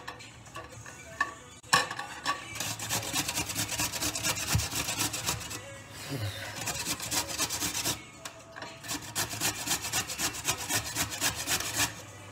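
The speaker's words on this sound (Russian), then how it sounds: "На терке быстренько трем морковку." Carrot is rubbed quickly against a kitchen grater in rapid, rhythmic rasping strokes, close and continuous apart from a couple of brief pauses, with no talk.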